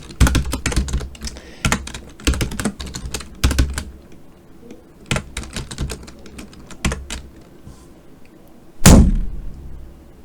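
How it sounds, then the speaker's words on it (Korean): Typing on a computer keyboard at a desk: bursts of rapid, close clicking keystrokes with short pauses, ending in one louder clack. "지금 얘기하고 키보드 치고 있는데"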